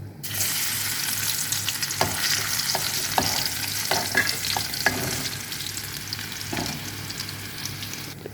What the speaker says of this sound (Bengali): আমি একটু বাগার দিম রসুন দিয়ে বাগার দিলে একটু ভাল লাগবে